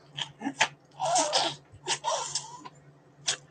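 A dog sneezes and snorts several times in quick, irregular bursts, close by, with short pauses between the wet huffs.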